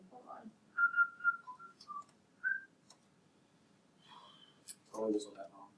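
A person whistles a few short, clear notes and then goes quiet. A voice speaks briefly near the end.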